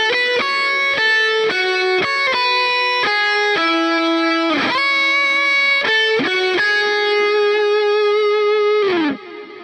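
Fast harmonized distorted electric guitar solo, played alone with sustained bends and quick note changes, loud and close, ending on a held note that drops away.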